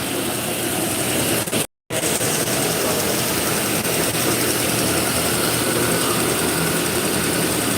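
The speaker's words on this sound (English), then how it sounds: "this is a 10-inch serrated contact wheel with a 36 grit ceramic belt, and this thing will eat steel like crazy" A belt grinder runs a 36 grit ceramic belt over a 10-inch serrated contact wheel, giving a loud, steady, close roar with a brief dropout near the start and no talk.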